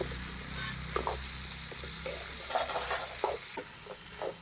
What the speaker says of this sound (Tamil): காய்கறி சேர்த்ததுக்கப்புறமா பார்த்திங்கன்னா நல்லா வதக்கிக்கோங்க.